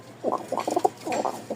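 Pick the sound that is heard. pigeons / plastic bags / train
pigeons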